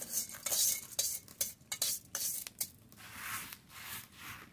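Rice being stirred and scraped in a hot frying pan with a broom-stick bundle, giving irregular rustling, scratching sweeps close by.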